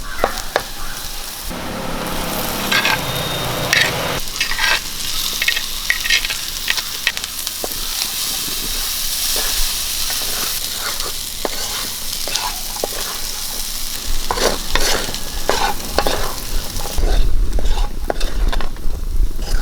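Boiled koorka (Chinese potato) stirred and fried with onion, turmeric and Kashmiri chilli powder in a pan, a loud steady sizzle with frequent scraping spatula strokes up close, no speech.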